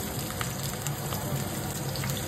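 Onions frying in oil with whole garam masala as mutton cooking begins in a home kitchen: a steady, even sizzle with no break, moderately close.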